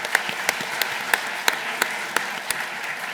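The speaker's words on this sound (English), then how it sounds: "Let's give AmpNet a huge round of applause." Audience applause for a startup pitch team at a startup challenge semi-final, steady clapping with a few sharper individual claps standing out over a short stretch.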